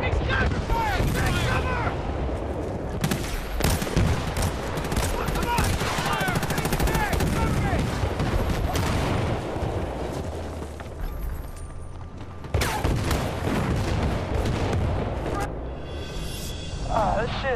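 Dense bursts of gunfire and machine-gun rattle fill an online squad deathmatch in Battlefield Bad Company 2 on PS3, with explosions mixed in, loud and continuous, while players talk over the action.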